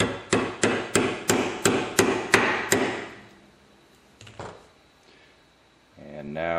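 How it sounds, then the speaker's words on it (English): A hammer taps a steel pin into a shotgun's recoil guide rod assembly: about ten sharp, evenly spaced metallic strikes close by, then a few quieter handling knocks. "Take your hammer and tap the pin back into place."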